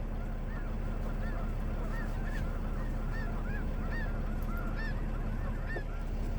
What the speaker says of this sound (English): Lots and lots of birds. It looks like a big convention.